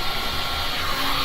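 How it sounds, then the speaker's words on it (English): A steady, breathy rush of air blown across wet resin in a resin pouring painting, close and continuous for about a second with no talking. "I blow on it and blow some of the resin around."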